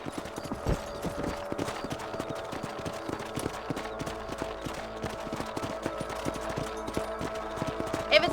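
Horse hooves clip-clopping steadily as a rider travels across a ranch in Red Dead Redemption, a continuous even rhythm of hoofbeats at moderate volume with low ambient background.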